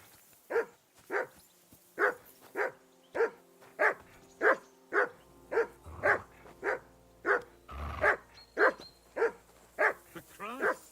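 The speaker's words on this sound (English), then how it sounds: "For Christ's sake, Henry, call off that damn dog" A dog barks steadily in the Kingdom Come Deliverance 2 video game, a long even series of loud single barks about every half second, with a low rumble partway through.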